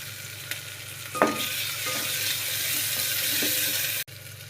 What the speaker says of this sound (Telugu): పచ్చిమిరకాయ, అల్లం పేస్ట్ వేగిపోయింది.